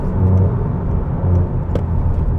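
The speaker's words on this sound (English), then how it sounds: "what you're hearing inside the car is the noise from the exhaust. It's quite a high pitch and raspy at the top end" Toyota GR Yaris exhaust fitted with an MG Motorsport OPF delete, heard from inside the car as a steady, loud droning rumble with a rough edge, continuous throughout with no speech.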